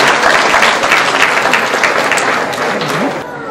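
Audience applause at a seminar during a jubilee celebration, a dense loud burst of clapping from a crowd lasting a few seconds before tapering off.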